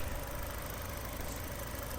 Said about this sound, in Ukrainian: зверніть увагу, як гарно і рівно працює мотор